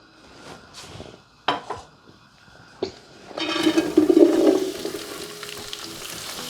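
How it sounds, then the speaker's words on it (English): Chopped celery, carrots, onions and garlic sautéing in a tablespoon of olive oil in a pot, with a few sharp clatters of a utensil before a steady sizzle builds and holds, punctuated by stirring. "I'm going to saute this for probably about 5 minutes"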